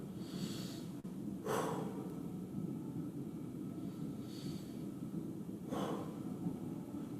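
Slow, deep breaths during a lunging stretch, with soft airy inhales and exhales recurring every few seconds over a steady low background hum.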